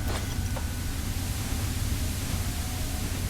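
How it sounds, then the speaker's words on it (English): Loud, steady white noise static from the video game Fallout 3, a dense continuous hiss that fills the clip without break and plays alone. "Is that the white noise?"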